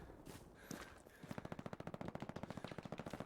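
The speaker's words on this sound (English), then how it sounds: "that's bullets coming in" Incoming bullets in the WW2 shooter Hell Let Loose at night: a rapid, steady burst of sharp gunfire cracks in quick rhythm, following a quieter, muffled stretch of battlefield ambience.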